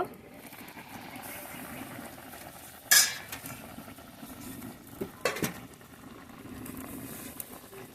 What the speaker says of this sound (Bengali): ঢাকাটা খুলে নেব